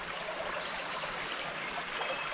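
High water flows steadily along Rocky Fork creek, a quiet, even rushing hiss of moving water with no voices.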